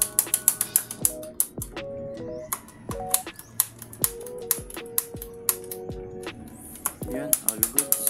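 A mountain bike's rear derailleur and shifter click through the gears on a platinum MTB build, giving a series of sharp ratcheting clicks with rising and falling chain whirs between shifts, close up.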